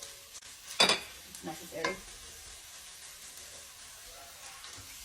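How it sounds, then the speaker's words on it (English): Red onions hit a hot pan for a Tamil mutton curry, a sharp burst of sizzling and stirring that flares twice and settles to a low hiss, with a brief spoken remark. "let's add in all our red onions"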